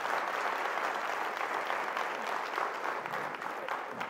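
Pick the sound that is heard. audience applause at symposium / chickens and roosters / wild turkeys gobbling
audience applause at symposium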